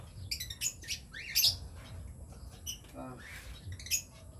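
Bird squawking inside a storage room: several sharp, high squawks and chirps in irregular bursts at close range over a faint background hum, with a brief lower scratchy call partway through.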